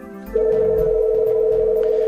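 An office intercom telephone gives a steady, clear electronic tone after its hold button is pressed, starting abruptly and holding level and loud with a low hum beneath.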